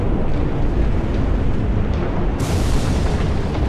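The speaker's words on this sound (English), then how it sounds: "Ground was quaking and soon a volcano erupted" A volcano erupts in an animated dinosaur scene, a continuous deep rumbling roar with heavy low-end boom that holds steady and loud throughout.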